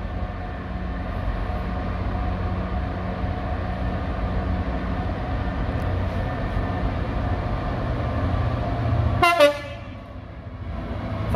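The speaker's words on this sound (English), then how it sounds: "Thank you for the horn, driver." A DB Class 66 freight diesel rumbles steadily through Eastleigh station, then sounds one loud, brief horn blast near the end before the engine noise drops away.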